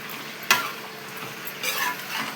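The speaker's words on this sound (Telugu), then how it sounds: "చిక్కుడుకాయ ఫ్రై చేస్తున్నాను" Broad beans (chikkudukaya) frying in a pan, a close, even sizzle with a sharp spoon clack early on and a swell of scraping stirring later, no talking.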